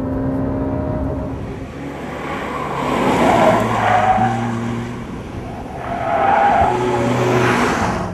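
Honda Civic Type R accelerating hard with engine drone building in two surges while the tires squeal and skid, loud and steady throughout with no talking.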